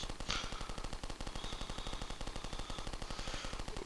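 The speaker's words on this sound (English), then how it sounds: "They've got 3 different firing modes, these bosses: the lasers, the wave shot, and if you get nice and close it's like a circular shot" Boss enemy in a video game firing lasers and wave shots, heard as a rapid, continuous stream of synthetic gunfire bursts with sharp zapping accents, steady and dense throughout with no talk.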